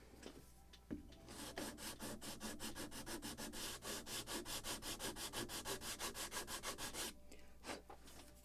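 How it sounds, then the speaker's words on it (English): Rhythmic back-and-forth strokes of sandpaper rubbing on the wooden planking of a model ship, close and steady, about two strokes per second, with quiet pauses at the start and end. "Still maybe a little more sanding."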